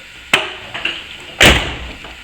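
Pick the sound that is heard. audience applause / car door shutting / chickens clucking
car door shutting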